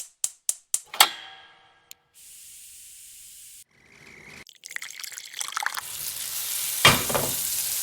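Peeled, washed and cut sweet potatoes go into hot oil in a deep frying pan. A few sharp clicks and a hum come first, then sizzling builds, with a loud hissing burst before it settles.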